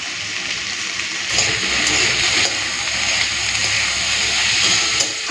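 Bitter gourd and potato pieces, seasoned with salt, turmeric and chilli powder, frying in a pan give a steady, fairly loud broadband hiss that swells slightly after the first second and carries on unbroken with no voices.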